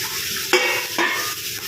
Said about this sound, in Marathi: टोमॅटो आणि कांदा छान असं मिक्स करून घेणार आहोत कमी गॅसवर